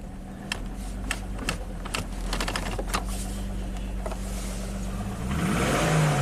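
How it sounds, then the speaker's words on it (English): A Jeep 4.0 inline-six engine runs with the vehicle on a dolly, a low steady drone under a series of sharp ticking clicks, and the engine swells louder near the end. "That's a good running Jeep."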